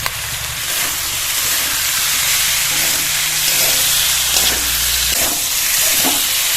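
Fried pointed gourd pieces go into a pan of spice paste that has been sautéed until oily, giving a steady loud hiss and sizzle throughout, with a low rumble that drops away near the end.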